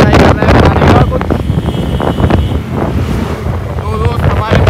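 Strong outdoor wind buffets the microphone in a loud, continuous low rumble with gusty surges, and a voice is partly buried beneath it.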